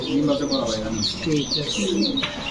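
Big Golla pigeons coo repeatedly in soft, throaty calls, several birds overlapping close by, with chirps mixed in.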